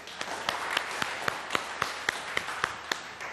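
Sparse clapping from a studio audience on a Ramzan iftar quiz show, a dozen or so evenly spaced claps over a steady hiss, moderately close and without talk.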